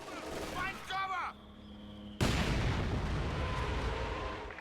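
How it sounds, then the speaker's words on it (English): Katyusha rocket artillery bombarding a battle group headquarters in a war strategy game, a brief game voice line and a short quiet lull, then a sudden heavy rumbling barrage of blasts that rolls on loudly to the end. "Katyusha bombarding the battle group headquarters doesn't look like it's really hitting anything"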